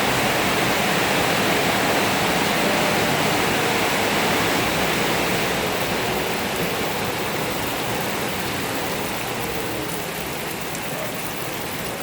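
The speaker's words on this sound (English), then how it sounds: "it's a very, very heavy rain today here in the Philippines" Very heavy rain pouring outside a house in the Philippines, a dense, loud, continuous hiss of falling water that stays steady and nearly unbroken throughout.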